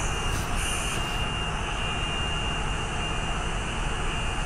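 Steady, loud roar of the An-225 aircraft's jet engines in a video game, a dense broadband rumble and hiss that stays constant throughout with no gaps.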